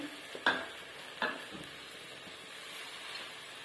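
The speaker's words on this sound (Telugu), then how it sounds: "కొద్దిగా ఆయిల్లో మగ్గనివ్వాలండి" Chicken pieces sizzling softly in a little oil while being stirred, with two sharp scrapes of a utensil against the pan early on and a faint steady fry underneath in a village kitchen.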